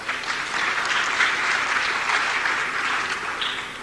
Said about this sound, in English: So give applause to Dr.